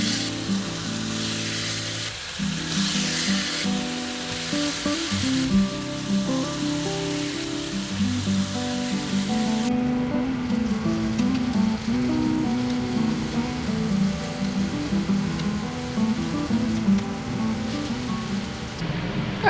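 Partly frozen bacon fries in a pan with a steady, crackling sizzle like rain on a surface, close and continuous under faint background music, with no talking.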